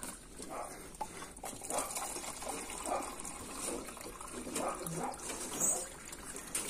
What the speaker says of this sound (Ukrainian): Наливаємо їм зразу пити.